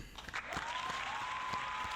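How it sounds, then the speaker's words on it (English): A fairly quiet, brief round of clapping from a small gathering, soft overlapping hand claps with a faint steady tone running underneath. "Just clap it up."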